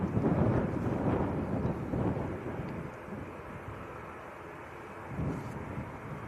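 A Ryanair Boeing 737-800 taxis toward the listener at Manchester Airport. A broad, steady jet roar fills the scene, loud and rumbling, and eases slightly before swelling again near the end.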